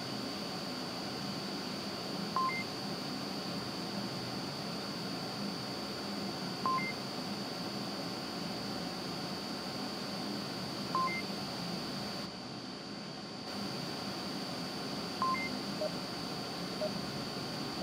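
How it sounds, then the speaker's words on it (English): Countdown timer beeps sound in the VR shooter Onward, single short tones repeating about every four seconds over a steady background hiss. "And there's the countdown timer"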